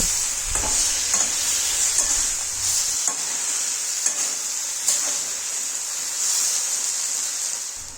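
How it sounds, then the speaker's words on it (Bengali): Vegetables with ground ginger paste and a little water being sautéed in a pan, loud continuous sizzle with repeated scraping stirs of a spoon against the pan, close and without talking. "এগুলি দেওয়ার পর সামান্য জল দিয়ে ভালো করে কষিয়ে নেব"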